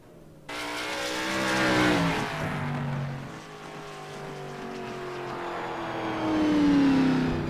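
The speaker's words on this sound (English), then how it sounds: "Here comes the one car coming onto the circuit to complete his qualifying attempts and working his way through." A World of Outlaws late model race car in iRacing roars onto the circuit for a qualifying lap, its engine note rising and falling through gear changes as it passes close and loud, with no talk over it.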